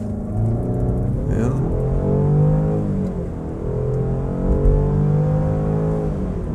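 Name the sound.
SUV engine revving while accelerating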